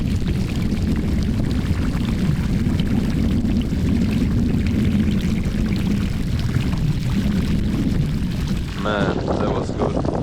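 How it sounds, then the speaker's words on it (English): Outdoor hot water shower running in Iceland, a loud, steady rush of spraying water mixed with wind buffeting the microphone, continuous and close, with a brief voice near the end. "Warm shower in the middle of nowhere."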